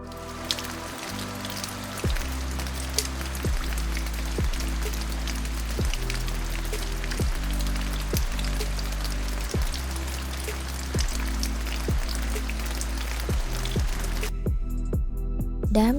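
Steady rain falling at Manchanabele Dam, a continuous wash of drops with regular low thumps running beneath it, holding an even loudness throughout with no talk.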